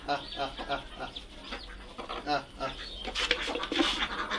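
Baby chicks being given feed, peeping and chirping steadily in quick overlapping calls up close, growing louder and busier toward the end.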